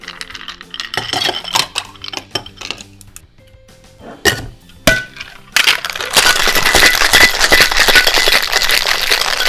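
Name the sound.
cocktail being shaken with ice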